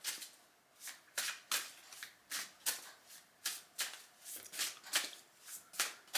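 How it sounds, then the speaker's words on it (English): Tarot cards being shuffled close up: a series of crisp, riffling bursts in a steady rhythm, with no talking. "Give them a clear and a shuffle."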